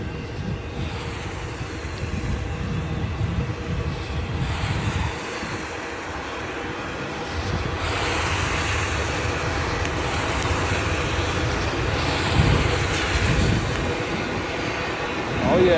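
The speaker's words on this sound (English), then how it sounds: "Look, you see how it's picking up speed? Because the whole train's over the bridge now." A long CSX freight train rolls over a bridge across the Susquehanna while picking up speed, a loud continuous rumble and rattle of wagons that swells in places, with people talking over it.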